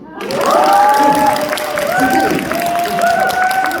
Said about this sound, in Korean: 지금까지 산자한데 박수 주세요